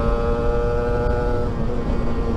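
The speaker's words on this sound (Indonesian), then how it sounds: "suara motor idle atau jalan santai itu kayak gini." A Kawasaki Ninja RR two-stroke motorcycle fitted with a BRT SF-28 carburetor idles close by, a steady throbbing rumble with a buzzy whine on top, no voices.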